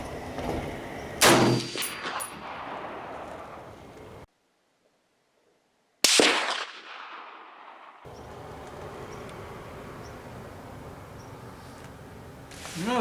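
Gunfire at an outdoor shooting range, sharp loud reports near the start and again around the middle, with a noisy open-air background between shots and a brief dropout of sound.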